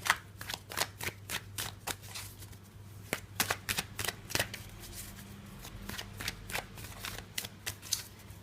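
Tarot cards being shuffled by hand in a quiet room, a run of crisp riffling snaps and soft flutters in irregular bursts, close and fairly faint with a low steady hum beneath.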